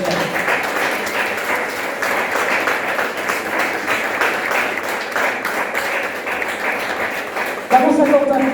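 A church congregation claps together in praise, a dense, steady wash of applause that holds for several seconds before a louder surge near the end.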